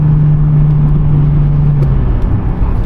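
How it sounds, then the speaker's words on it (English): A slow 2-litre car accelerates from 0 to 60 in the rain, its engine giving a loud, steady droning hum inside the cabin that shifts slightly in pitch toward the end. "We're looking at a pretty slow 0 to 60."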